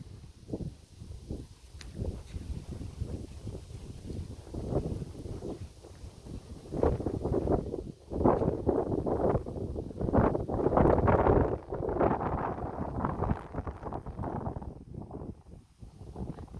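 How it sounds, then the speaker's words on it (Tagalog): Strong, gusty wind buffets the microphone in uneven rumbling surges, growing heavier through the middle before easing slightly. "Ang lakas pa ng hangin."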